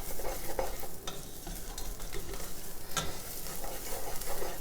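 Rice being stirred with a dusting of turmeric in a pan, a continuous close sizzle with scraping spoon strokes and gentle clatter throughout, alone without voices.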